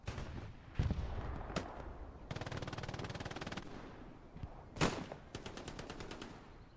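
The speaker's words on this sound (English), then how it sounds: "Hip firing the MG." Machine gun fire in a multiplayer shooter game arrives as rapid bursts and sharp single shots, with a sustained stretch of automatic fire and a closing rattle, set against faint background noise.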